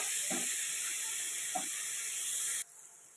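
Chopped medium-sized tomato sautéing in a pan, giving a steady close sizzling hiss with two soft stirring scrapes, and the sizzle cuts out abruptly near the end.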